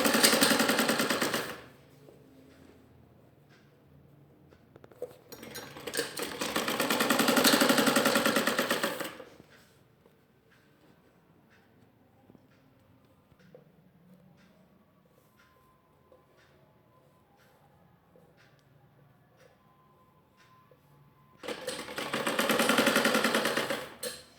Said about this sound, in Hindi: मैं इस पर डिज़ाइन बना के सिलाई लगाऊंगी